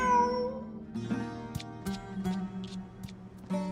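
A cat meows in the Genshin Impact video game, a few short calls over steady game music with faint ticking, moderately loud and close.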